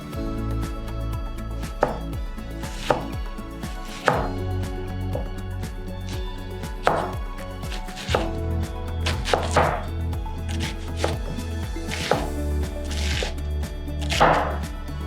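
A knife chops an onion into a fine cut on a board, giving a quick, rhythmic run of close, dull thunks with brief pauses and a few louder knocks.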